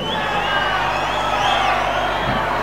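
A club crowd at a rock concert roars and cheers in one sustained dense wall of noise, loud and close, with scattered whoops rising above the mass.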